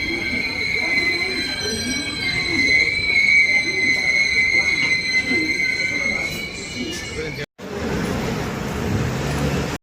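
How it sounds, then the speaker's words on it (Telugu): A Hyderabad-to-Tirupati express passenger train rumbles into a station close by with high, sustained wheel squeal over steady track noise; the sound cuts out briefly near the end, then resumes. "మోతి ఎక్స్ప్రెస్ వచ్చేసిందండి"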